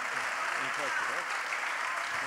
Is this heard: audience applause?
yes